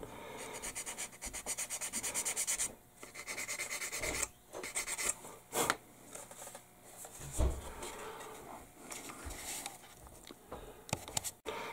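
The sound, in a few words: sanding a nub on a plastic model aircraft part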